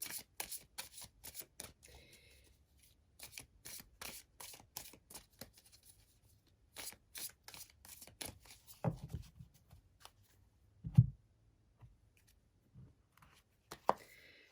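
Tarot cards being shuffled by hand in a series of crisp riffling, slapping bursts, steady and close, with a few louder taps near the end and no speech.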